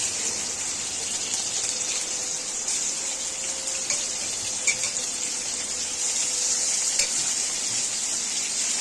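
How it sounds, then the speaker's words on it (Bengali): Tengra fish drop into hot oil in a pan, setting off a loud, steady, hissing sizzle with occasional sharp pops and crackles that continues without pause. "মাছগুলো এবার আমি দিয়ে দিচ্ছি।"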